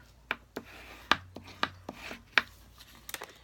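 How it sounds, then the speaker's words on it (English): Bone folder burnishing the scored edge of an A2 Whisper White cardstock card, heard as a series of separate brisk rubbing strokes and light taps, close and fairly quiet, with no talking. "I just need to burnish the edge with my bone folder."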